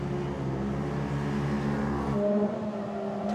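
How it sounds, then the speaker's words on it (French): Race cars run close together at the Grand Prix de Trois-Rivières, heard as a steady droning engine hum that drops away sharply partway through. "On a deux bolides qui se suivent de très près."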